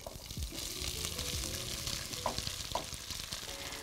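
Potatoes with melted butter are stirred in a pot, a quiet continuous sizzle with low rustling and a few soft spoon knocks; close, without talk.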